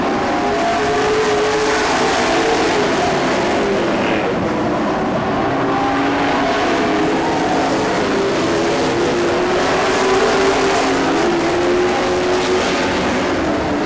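Race cars lapping an oval track on the final lap before the white flag, a steady dense engine roar with shifting pitch as the pack passes, loud and continuous with no break.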